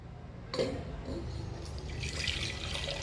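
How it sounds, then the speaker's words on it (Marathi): Buttermilk drained from inside churned butter pours into a metal pot with a gurgling splash that starts abruptly and runs on, over faint background hum. "या तांब्यात आपण हे पांढरं पाणी काढणार आहोत"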